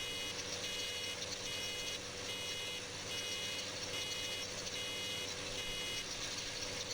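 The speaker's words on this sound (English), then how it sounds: "That beeping, though." Steady reversing beeps from a vehicle in the video game Farming Simulator 15 repeat in an even rhythm, about one per second, over a continuous engine drone.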